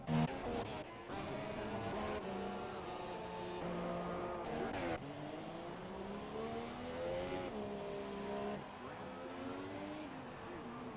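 Grand Prix race cars in a GP2 video game race at the USA Grand Prix, engines whining and revving continuously with shifting pitch as they pass, under steady commentary from two voices.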